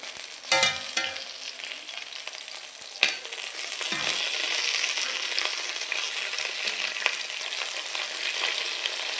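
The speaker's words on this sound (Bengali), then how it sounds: "মাছগুলোকে আমি ভালো করে ভেজে নিচ্ছি।" Fish frying in hot oil in a wok, a steady close sizzle that runs throughout, with a few sharp spatters and stirring clatters near the start and middle.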